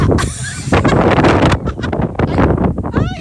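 Strong wind buffets the microphone in loud, rumbling gusts that rise and fall throughout, with faint voices underneath, in a field of canola flowers in Japan in April.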